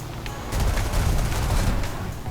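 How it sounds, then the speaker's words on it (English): A dense, continuous roar of rapid aircraft machine gun fire in War Thunder, from wing-mounted .30 cal and nose-mounted .50 cal guns, heavy and booming, sustained without a break for a couple of seconds. "It has 4 wing-mounted 30 cal machine guns, 2 nose-mounted 50 cal machine guns"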